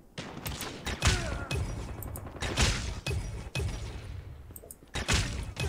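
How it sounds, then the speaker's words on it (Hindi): Sharp shots from a gun in Call of Duty Mobile crack out in a fast series of distinct bursts with brief pauses, loud and close, with impact thuds mixed in. "गन देख रहे हो तुम, कितनी जबरदस्त चल रही है"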